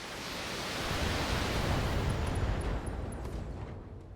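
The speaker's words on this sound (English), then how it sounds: "There is an LRM ammo explosion." An LRM ammunition explosion in the mech combat video game Battletech: a loud, sustained roaring rumble that swells over about four seconds and then eases slightly, with no talking over it.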